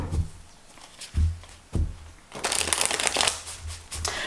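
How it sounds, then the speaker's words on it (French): Tarot cards laid out and shuffled on a table, giving a few soft thumps and slaps followed by a longer crisp rustling burst of card handling, close and fairly loud, with no talking. "je vais mettre les cartes comme ça et on va évidemment commencer notre tirage tarot"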